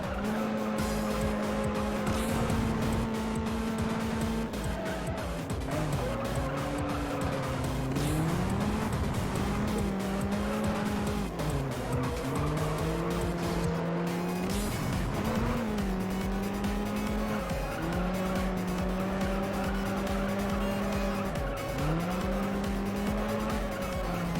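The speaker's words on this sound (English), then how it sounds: "it was also like a strange drift" Car drifting through corners in the racing game Juiced, a steady loud engine drone rising and dipping in pitch with repeated long tire squeals throughout.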